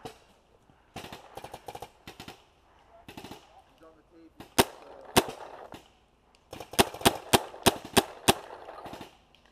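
Paintball guns fire in bursts across an outdoor tower-attack field, with sharp cracking pops coming singly and in rapid volleys of several shots, some near and loud, others farther off.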